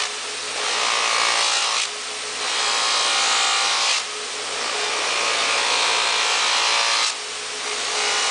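A motorized buffing wheel loaded with black rouge polishes stainless steel automotive trim, giving a loud, harsh rushing whir in long sustained passes with brief dips between strokes.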